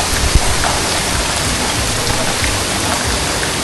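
A waterfall pouring down over the Ganpati Gadad cave group, a steady, broadband rushing wash of falling water, loud and unbroken.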